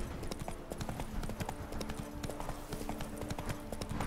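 Roach the horse trots in The Witcher 3: Blood and Wine, hooves clip-clopping in a quick steady rhythm over game ambience, close and continuous.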